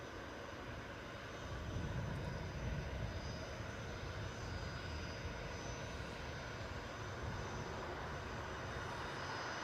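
A Corendon Airlines jet in FC Nürnberg livery rolls for takeoff at Newcastle airport, its engines building into a loud, steady broadband roar that swells and holds.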